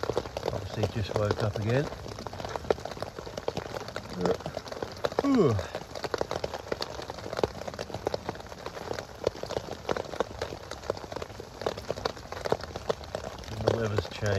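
Steady rain patters on a tent during a wet camp-out, a dense crackling wash that runs throughout, with a voice speaking quietly and close over it.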